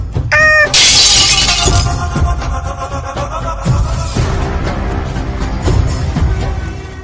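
A coffee cup drops and shatters in a loud, sharp crash, followed by scattered clattering and a rumbling tail, with a short high-pitched cry just before the break.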